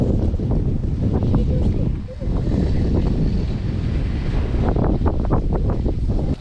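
Strong outdoor wind buffets the microphone on a coastal island rebuilding after a typhoon, a loud rough rumble with gusts throughout, and a voice talks over it.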